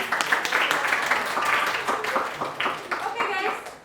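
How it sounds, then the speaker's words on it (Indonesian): A school class applauds after a group presentation, with a dense wash of clapping hands mixed with children's voices and chatter throughout. "Oke, kita beri tepuk tangan."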